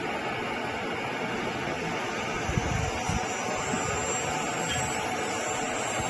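CNC router machine spindle spinning up: a steady broadband whirring hiss with a high whine, fairly close and constant, with a couple of faint low thumps midway.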